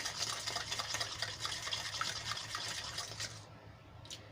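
Baking soda being stirred into oil for Gujarati fafda dough, a soft, steady scraping and swishing that runs for several seconds before fading, quiet and close with no talk.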